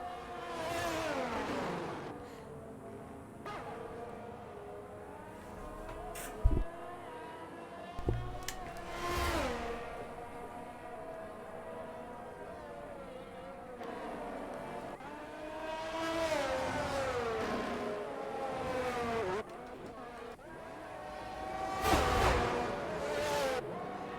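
Formula 1 race cars in the F1 2022 video game lapping the Bahrain circuit, high-pitched engine whines rising and falling as cars pass and shift gears, fairly faint, with a couple of sharp transient bumps.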